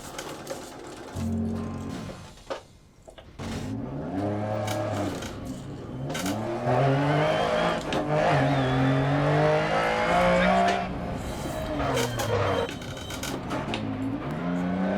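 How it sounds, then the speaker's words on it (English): Lancia Stratos rally car in Dirt Rally on a Monaco stage, engine revving and swooping through gear changes with rising and falling pitch, tire squeal and skidding mixed in, loud and close throughout. "Let's let the car spin here."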